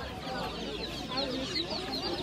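Chickens cluck at a busy poultry market in Nukus district, a dense continuous chorus of overlapping clucks and calls, near and steady, with faint crowd murmur behind.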